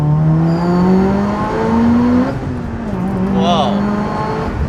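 A Do-Luck widebody Mitsubishi Evo street car revving hard up close, engine pitch climbing in a long loud rev, dropping back, then rising again in shorter blips, with people talking under it.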